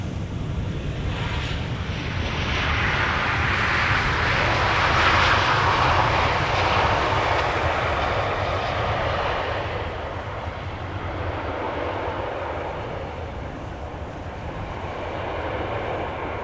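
Airplane jet engines roar steadily at Amsterdam Schiphol Airport, a broad sustained rumble that swells and slowly fades as the aircraft passes at a distance, with no voices.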